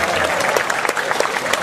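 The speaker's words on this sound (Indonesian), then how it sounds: "Tepuk tangan semuanya" An audience breaks into dense, steady applause, many hands clapping at a moderate level throughout with no pause.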